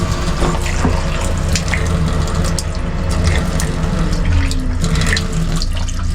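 Water pours steadily from a tap at a mountain village shrine, a loud, continuous splashing stream heard close up with no voices.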